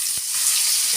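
Tomatoes frying with softened onions in a pan for a sardine fish curry, giving a close, steady hiss of sizzling through the whole second, with one soft low thump near the start.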